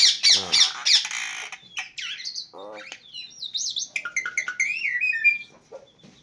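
A pet myna bird calls out loud and close in a rapid series of harsh squawks, chirps and whistled, speech-like notes, alone without other voices.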